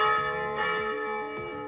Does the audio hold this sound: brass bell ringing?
yes